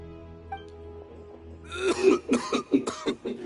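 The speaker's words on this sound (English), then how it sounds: "Why is he coughing so much?" A video game character coughing up sand in a series of harsh, rasping coughs and throat clearing, close and fairly loud, following a quiet low ambient tone.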